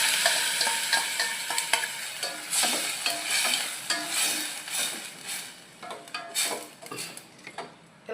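A spoon works thick curd into a spicy yogurt chutney made with plenty of dried red chilies, making wet, squelching scrapes and soft clicks against the bowl in an uneven rhythm, close up with no talking.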